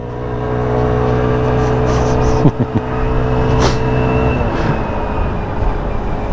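A Sym Symphony 50 scooter with a 50 cc engine runs at full throttle going uphill, a loud, steady buzzing drone close to the mic, with a few brief knocks partway through and no talk.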